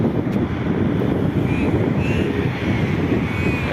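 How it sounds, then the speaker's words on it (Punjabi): Cold wind gusting across a suburban street in Melbourne under clouds, a broad continuous rush buffeting the microphone for a few seconds with no talk. "ਹਵਾ ਬੜੀ ਠੰਡੀ ਚੱਲ ਰਹੀ ਆ"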